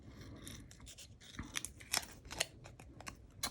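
Scissors fussy cutting around a paper sticker for a mini album, a close, quiet series of crisp snips and paper rustles in an irregular rhythm with no talking.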